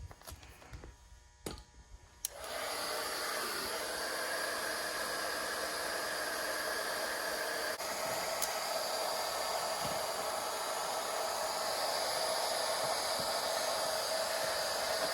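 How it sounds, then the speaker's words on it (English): An embossing heat tool used as a heat gun for debadging a Duramax truck blows with a steady, loud airy hiss that starts after a few quiet seconds and runs unbroken to the end. "how do you guys like my heat gun? It's some sort of embossing heat tool."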